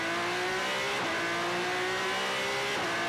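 Formula 3 race cars launching from the grid at the Macau Grand Prix start, a dense wall of high-revving engines rising in pitch with audible gear changes, loud and sustained, several cars blending together with no talk.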